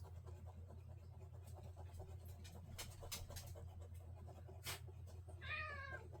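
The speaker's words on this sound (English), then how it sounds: "Yes, you gorgeous cat." An indoor cat meows a few times near the end, one clear rising-falling call over a low steady room hum, with soft rustling beforehand.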